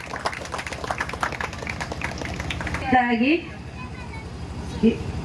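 An audience at a village Krishna Janmashtami celebration claps in quick, even rhythm. A voice speaks over a microphone at the same time, and the clapping fades partway through.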